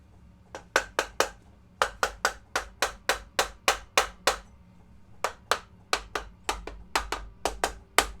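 Sharp, rapid taps drive a part into place on a forged BMW N55 engine build. They come in two quick runs of about a dozen evenly spaced knocks each, close and crisp, with a short pause between the runs.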